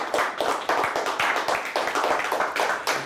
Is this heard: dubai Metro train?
no